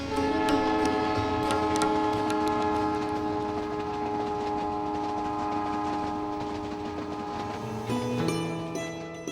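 The Palace on Wheels luxury train runs on rails in Rajasthan, India, a loud, continuous rumble with a sustained tonal horn or whistle drone that shifts pitch near the end, with no voices.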